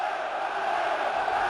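Port Vale fans in a 2006 league match against Doncaster Rovers roar steadily around the stadium in a dense, sustained crowd noise.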